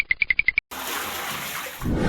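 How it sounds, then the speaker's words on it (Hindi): A toilet flushes with a loud, steady rush of water that swells slightly near the end, right after a short run of evenly spaced electronic beeps. "कोई इसे फ्लश कर दे।"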